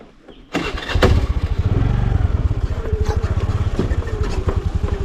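A motorcycle on a rural village road starts abruptly after a quiet moment, then runs with a loud, close, steady putter that settles into a rhythmic chug while riding, with no talk.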